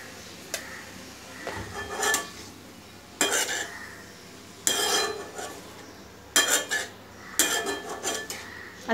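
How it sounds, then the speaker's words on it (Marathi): Cabbage bhaji is stirred in a metal pan, with clustered bursts of scraping and clattering utensil strokes separated by short pauses and a faint sizzle underneath. "आता आपली चांगली ढवळून झाली आहे."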